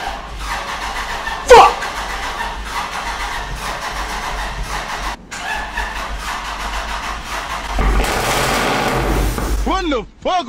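A second-generation Dodge Charger Scat Pack, low on gas, cranks and tries to fire up nearby with sputtering engine bursts and a sharp bang, while people talk excitedly over it.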